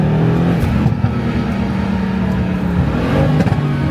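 A Mercedes C63 engine rumbles loudly and steadily, with a deep throaty drone that rises slightly as it revs, close by and with no talk over it.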